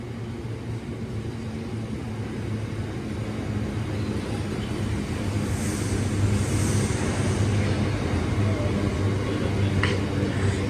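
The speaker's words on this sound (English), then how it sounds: "Not often you get freight trains going through Stoke-On-Trent." A Class 60 diesel freight locomotive, 60028, rumbles through Stoke-On-Trent station with a steady low engine drone, constant and fairly near, joined by faint higher squeals midway.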